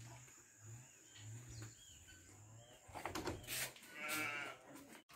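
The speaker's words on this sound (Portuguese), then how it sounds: "Aí, gente, as ovelhas," Sheep on a small Brazilian farm plot bleat faintly, with a low repeated hum and rustling beneath, then louder handling and clattering noises close by, with no speech.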